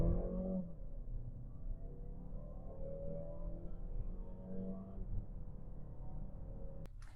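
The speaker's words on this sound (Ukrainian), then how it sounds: "А тепер спробуємо в режимі спорт швидесенько розігнатись." A Mazda CX-5 accelerates in sport mode, a steady low engine and cabin drone heard from inside, fairly quiet and continuous with no voices.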